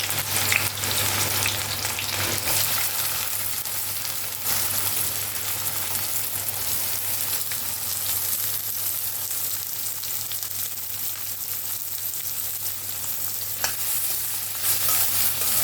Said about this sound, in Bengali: পেঁয়াজটা আমি খুব ভালো করে ভাজিয়ে নেব।